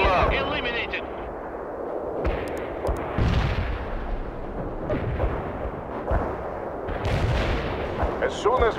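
Cluster bomb airstrike in the real-time strategy game World in Conflict: a dense, continuous barrage of heavy booms and crackling detonations rolls on for the whole stretch, with bursts of scattered blasts and faint radio-style voice chatter underneath.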